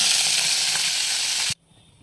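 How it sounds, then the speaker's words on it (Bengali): Cabbage fritters frying in hot oil give a loud, dense, close sizzle that cuts off abruptly after about a second and a half, leaving faint hiss. "এবার এক এক করে বাঁধাকপি পিঠাগুলো ভেজে নিচ্ছি"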